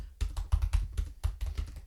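Fingers type on a computer keyboard close by, a steady run of irregular clicky keystrokes with brief pauses, no voices over it.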